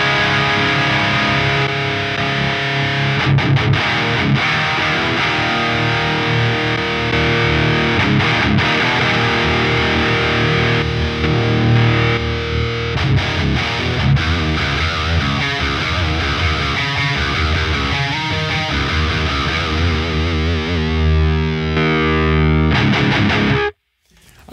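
Heavily distorted electric guitar played through a Neural DSP Fortin Cali amp simulation at high gain with the hair switch engaged, continuous aggressive riffing with chugging palm-muted notes, loud and upfront, stopping abruptly at the end.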